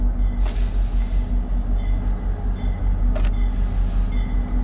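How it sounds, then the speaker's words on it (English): A diesel train on the Atlantic City Line passes a station with a deep, constant engine drone and rolling rumble, steady and fairly loud throughout. "There's a lot of electrical wires running overhead, but it's a diesel train."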